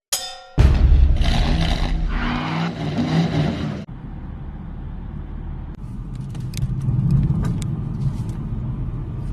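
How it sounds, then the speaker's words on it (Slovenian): Around a BMW 4 Gran Coupe, a sharp loud onset gives way to a heavy rumble with metallic clanks. A sudden drop follows into quieter ambient noise with a few faint clicks. "tole je BMW 4 Grand Coupe"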